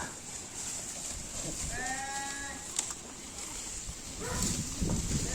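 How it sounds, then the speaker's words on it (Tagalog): Goats being fed on a farm bleat in a few short, wavering cries near the middle, fairly close, over a background of shuffling and farmyard noise. "tignan muna natin yung kambing. Yung mga kambing na pinapakain."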